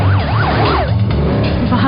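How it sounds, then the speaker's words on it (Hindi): An ambulance siren wails in rising and falling sweeps over a steady car engine hum, loud and close, then the siren fades within the first second as engine and road noise carry on. "सिर्फ एक कॉल करने से तुरंत एम्बुलेंस आ गई।"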